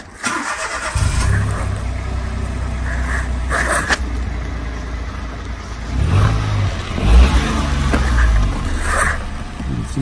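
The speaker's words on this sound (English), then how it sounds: "Right, I'm going to start the car." A Peugeot 107 car engine cranks and catches at close range, settling into a steady idle before being revved a few times, loud throughout with no talking.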